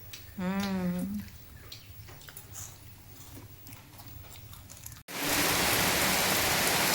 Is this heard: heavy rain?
yes